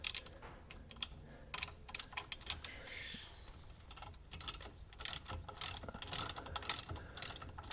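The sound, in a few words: ratchet tightening a bolt on a Mazda 3 suspension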